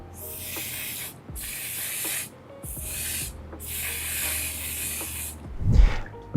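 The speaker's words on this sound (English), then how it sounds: "To complete the look, I'm going to spray some matte setting spray from One Side Beauty." Several bursts of One Side Beauty matte makeup setting spray, each a close, steady hiss lasting about a second, separated by short pauses, ending with a brief rustle.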